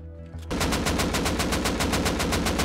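Sustained automatic gunfire in Rust during an online raid on a house built on water, a loud rapid burst of evenly spaced shots that begins after a short quieter moment and runs without a break.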